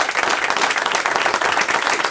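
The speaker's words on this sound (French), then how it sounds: "Je vous demande de l'applaudir" An indoor audience breaks into sustained applause at an anniversary event, a dense, even wash of many hands clapping close by without letup.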